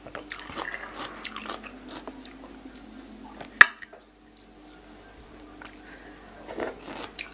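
Someone eating a spicy pounded pickled shallot salad with cucumber, with close crunchy bites and chewing in short bursts, a sharp crack midway, then quieter chewing.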